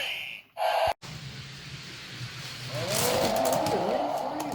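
Hot Wheels toy cars racing down a track in a championship race, with a sharp clack at the start and then a steady rolling whir that grows louder and rattles near the end, with a person audible briefly.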